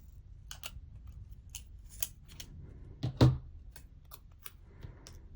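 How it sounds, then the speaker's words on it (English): Scissors cutting planner paper in short, crisp snips spaced through the clip, close and fairly quiet, with one louder rustle of handled paper in the middle. "So I'm just going to cut it apart here."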